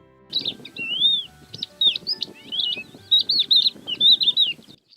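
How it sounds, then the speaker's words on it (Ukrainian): A skylark sings in quick bursts of bright, warbling chirps, fairly close, with a soft rustling noise underneath. "пісня жайворонка лунає в небі"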